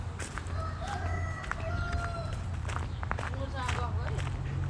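A rooster crows on a village chicken farm. The calls come through steady outdoor noise, with people talking nearby and footsteps moving around.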